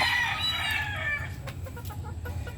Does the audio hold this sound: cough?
no